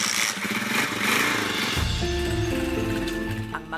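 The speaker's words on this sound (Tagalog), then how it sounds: "Ang mag-ama sumakay na ng motor papuntang eskwelahan." A father and child riding a motorcycle to school in the Philippines, the engine a steady close drone that shifts to a lower, rumbling hum partway through, with music-like tones layered over it.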